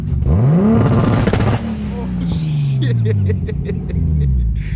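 A turbocharged 3.0L M52 engine in a BMW E30 revs sharply up and then drops into a long, deep, falling drone, loud and close, followed by crackling pops and bursts from the exhaust.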